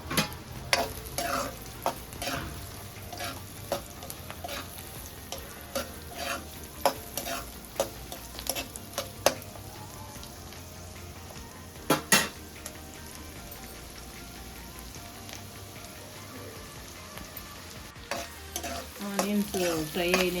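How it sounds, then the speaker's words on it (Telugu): Onions frying in hot oil with cumin and mustard seeds, stirred in the pan: a steady sizzle runs throughout with repeated scraping stirs and a few sharp utensil knocks, close and moderately loud, with no talking. "ఆనియన్స్ ఫ్రై అయినాయండి."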